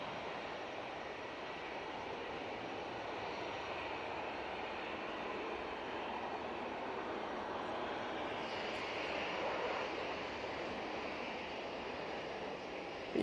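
A jet airliner lands at Manchester Airport with a steady, broad engine roar that hangs at a constant distance and swells slightly near the end of the run.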